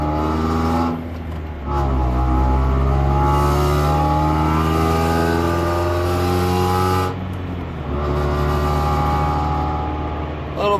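A Honda Prelude with an H23 engine and a cheap aftermarket exhaust revs hard and loudly for burnouts, holding high revs, dropping briefly, then roaring up again.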